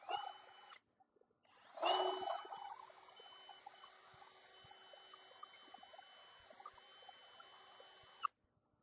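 A handheld drill bit reams a hole in plastic for a DIY undergravel shrimp filter, giving a brief whine and click, then a loud whirring grind that fades into a long thin steady whirr before stopping abruptly.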